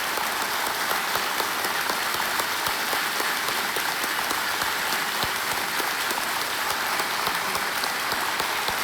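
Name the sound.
studio audience applause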